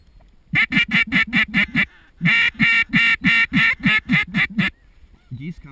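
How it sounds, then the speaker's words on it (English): A rapid series of loud, nasal goose honks in two bursts of about seven calls each, close and rhythmic, with a short pause between. "Geese coming."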